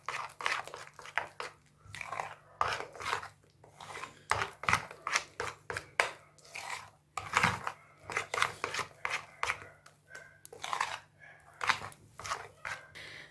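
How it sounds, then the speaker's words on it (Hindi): Dahi phulki mixture with chutney stirred in, heard as a steady run of close, crisp spoon scrapes and soft wet clicks against a bowl, irregular in rhythm and fairly quiet. "और इसको भी अच्छे तरीके से इसके अंदर मिक्स कर लें।"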